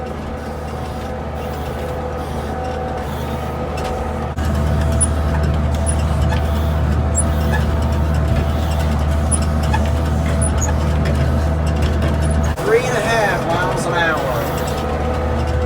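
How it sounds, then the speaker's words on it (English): A tractor pulls a baler through a hay field, its loud engine drone running unbroken throughout, with a brief mechanical clunk and a shift in tone near the end. "So I'm gonna go ahead and bale."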